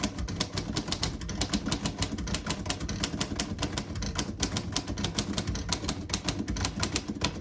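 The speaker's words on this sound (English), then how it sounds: "Beautiful typing machine, one of the most popular models of all time and one of Royal's best typewriters in my opinion ever produced." Rapid, steady keystrokes clatter on a 1938 Royal Model O portable typewriter, a dense, close, continuous run of sharp typebar strikes with no voices.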